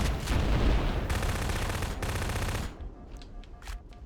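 A Half-Life 2 gun fires in Halo CE with the XAM mod, loud rapid bursts of automatic gunfire for about two and a half seconds before cutting to a quieter tail with a few sharp shots.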